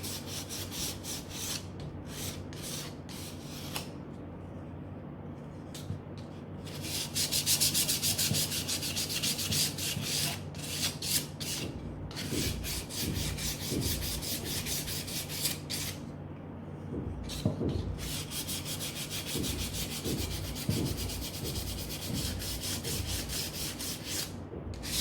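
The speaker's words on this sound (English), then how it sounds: "So the better you sand it, the more chances of your tray being very smooth." Steady rubbing rasp of sandpaper worked by hand over a wooden decoupage tray, continuous and close with repeated back-and-forth strokes, no voices.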